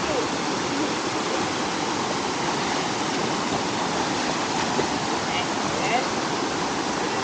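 Rushing stream water roars in a steady, dense wash of noise, loud and close, with no pauses, at a Malaysian dusun (orchard) campsite.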